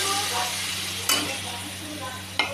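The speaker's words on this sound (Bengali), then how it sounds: "দেখো সুন্দর ভাজা হয়ে যাচ্ছে।" Potatoes and pumpkin sizzle gently in a pan, a soft continuous frying hiss broken by two sharp clinks of a utensil against the pan.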